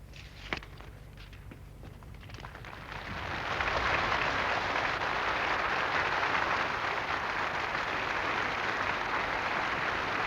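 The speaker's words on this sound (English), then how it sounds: "Great applause from the thousands within the castle as the Prince now resumes his seat on the throne" Thousands of people inside a castle break into applause at the 1969 investiture of Prince Charles, starting with scattered claps and footsteps before swelling into a loud, sustained roar of clapping.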